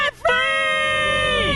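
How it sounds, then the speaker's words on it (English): A married couple's celebratory debt-free scream, a loud sustained shout after a brief dip, voices rising together and holding strongly to the end. "Let's hear a debt-free scream."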